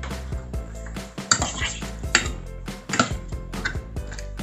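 Beef coated with cornstarch is stirred in a pan, with a utensil clinking and scraping against the metal in quick, uneven knocks and a low background hum.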